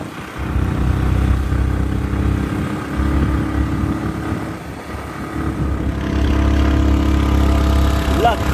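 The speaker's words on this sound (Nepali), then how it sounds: "नगरकोटको जङ्गलमा बाइक कुदाउँदैछौँ।" Motorcycle ridden through the Nagarkot jungle, its engine a steady close drone rising and easing with throttle, voices talking over it throughout.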